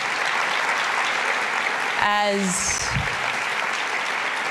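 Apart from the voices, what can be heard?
audience applause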